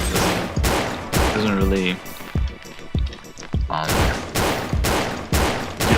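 Rapid gunfire from a gun in the video game Paratopic: repeated loud bursts of shots in quick succession, broken by short pauses, while a person talks over and between them.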